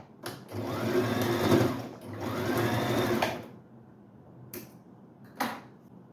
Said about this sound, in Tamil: மிஷினும் நல்லாயிருக்கு, நல்லா ஃப்ளோவாக ஓடுது.